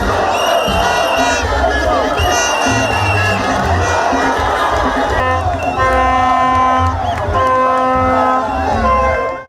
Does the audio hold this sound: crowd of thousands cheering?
yes